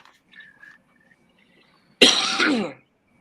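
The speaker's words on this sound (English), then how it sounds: "Apologize in advance for my coughing." A single loud, harsh cough bursts out close up after faint mouth noises and near silence.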